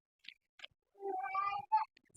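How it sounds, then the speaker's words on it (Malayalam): A pet cat gives a short meow up close, preceded by a couple of faint clicks, with quiet, soft surroundings. "പൂച്ച."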